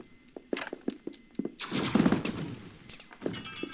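Rapid bursts of video game gunfire ring out during a chaotic multiplayer brawl, with sharp shots early on giving way to a dense, sustained volley and then a few scattered trailing cracks.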